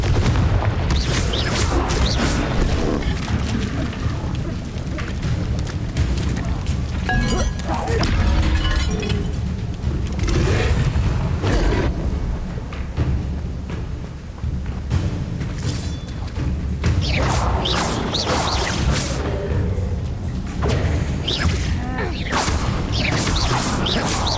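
Bombarda and Confringo explosion spells cast in Hogwarts Legacy on Nintendo Switch, a dense run of booming blasts and crashing impacts with whooshes, loud and continuous for the whole stretch.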